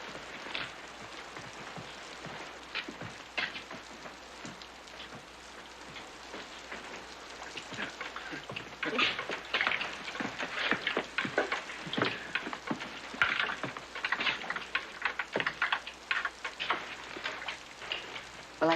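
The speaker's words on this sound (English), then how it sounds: "Looks like the rain's letting up some." Steady rain falling outside in a stormy Old West town at night, a soft hiss with scattered drips and patters that grow denser partway through, heard alone without talk.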